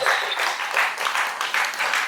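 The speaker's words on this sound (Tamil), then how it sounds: "இதய கவிதாவுக்கு கைத்தட்டல் பலமாக கொடுத்துடலாம்" An audience at a devotional gathering about Shirdi Baba gives a round of applause for Kavitha: steady, dense clapping that fills the whole moment with even, rolling bursts at close range.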